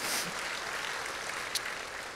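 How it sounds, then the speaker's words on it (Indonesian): A church congregation at a New Year's Eve service applauds in a steady, even wash of many hands clapping. It sounds fairly soft and distant, with one sharper clap near the end. "Berikan tepuk tangan kita untuk Tuhan kita."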